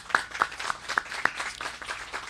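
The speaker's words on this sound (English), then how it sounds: "give yourselves a round of applause" Scattered hand claps from a small group, a handful of distinct sharp claps at first, then thinning into softer, uneven clapping.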